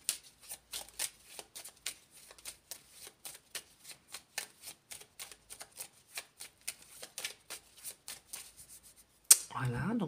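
A deck of tarot cards is shuffled by hand with rapid, crisp riffling flicks in a steady stream, then a sharp tap as the deck is cut, after which a voice begins speaking.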